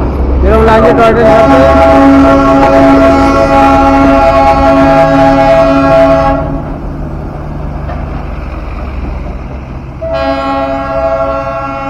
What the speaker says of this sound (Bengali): সামনে দিয়ে টয় ট্রেন চলে গেল দার্জিলিং স্টেশন থেকে।